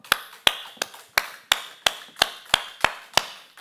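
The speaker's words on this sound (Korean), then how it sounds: "자, 박수 치겠습니다. 박수 10번 시작." Young adults at a church Bible lecture clap in unison ten times, sharp synchronized claps at a steady brisk rhythm, each ringing briefly in the room.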